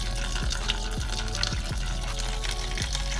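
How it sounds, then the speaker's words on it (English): Coolant draining out of a 2012 Honda Civic radiator, a continuous splashing pour and trickle with some gurgling, close by, and no talk. "When you open the radiator, it makes it leak a lot faster."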